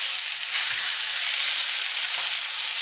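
Tuna steaks searing in a hot pan give a loud, steady, hissing sizzle that holds evenly throughout, close up with no talking.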